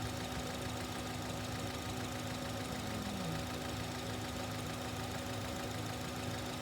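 A car engine runs steadily at idle during a stall diagnosis, a constant low hum with a faint tonal line and slight knocking texture, no talk.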